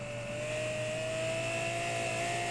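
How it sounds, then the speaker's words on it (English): A miniature V12 engine idles steadily with a smooth, even hum and a faint rising whine, constant and fairly quiet, with no talking. "It sounds like a V12."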